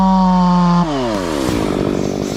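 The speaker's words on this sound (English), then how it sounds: "The sound of sawing rang out in the Norwegian jungle, a fierce echo emanating from giant trees under attack from talented sawyers." A chainsaw cuts into giant trees in a Norwegian forest, its engine holding a steady high whine before dropping in pitch as the chain bites into the wood, loud and close throughout.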